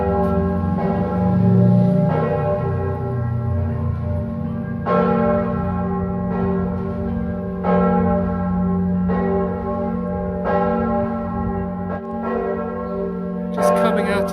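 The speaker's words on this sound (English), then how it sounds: "I can hear the bell of the cathedral ringing" A large cathedral tenor bell in Trieste tolls repeatedly at a slow, steady pace, each deep stroke ringing out and decaying into the next, resonant and fairly near.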